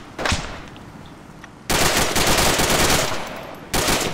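Heavy machine gun fire in an Arma 3 firefight, loud sustained bursts close by: a short burst, a pause, then a long rattling stream and another burst starting at the end.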